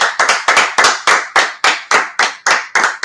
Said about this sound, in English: Let's clap it up real quick.